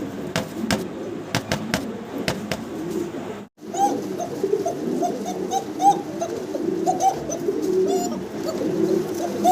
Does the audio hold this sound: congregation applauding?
no